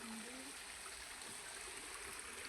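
A weak stream of river water trickles faintly and steadily, a soft continuous wash with no talking over it.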